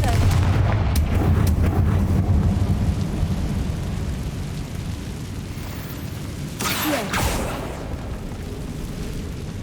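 Fiery spell explosions from Hogwarts Legacy rumble loudly at the start, then a dense crackling roar with a bright burst near the middle, followed by a lingering low rumble.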